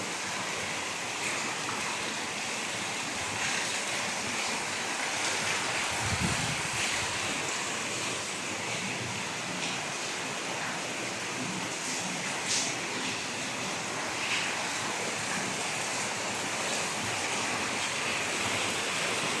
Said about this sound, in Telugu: ఇది తుఫాన్ ఎఫెక్ట్ అంటే ఇది అంతలా గాలి వాన ఎక్కువైపోయింది